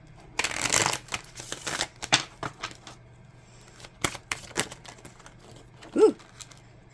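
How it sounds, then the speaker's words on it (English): A tarot deck is shuffled by hand in quick, papery bursts and riffles, close and fairly soft, with brief pauses between the runs of card noise. "A shuffle."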